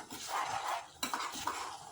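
Stirring and scraping in a frying pan while making fried rice, with soft clinks of a utensil against metal and a faint sizzle underneath.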